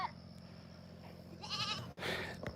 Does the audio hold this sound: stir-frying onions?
no